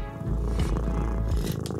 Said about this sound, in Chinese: 有只13岁的猫咪发出了将近68分贝的呼噜声